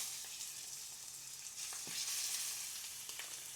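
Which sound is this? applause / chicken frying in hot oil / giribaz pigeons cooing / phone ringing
chicken frying in hot oil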